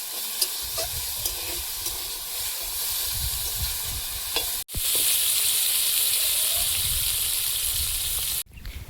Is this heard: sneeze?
no